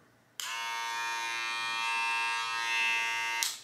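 A heavy electric hair clipper switches on and runs steadily with a bright, even buzzing hum at moderate loudness, then clicks off at the end, with no talking.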